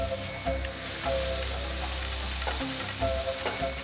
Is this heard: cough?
no